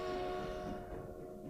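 A train in the Transport Fever simulation game runs along the line, a steady tonal hum with rumbling underneath, fairly loud and then gradually easing off.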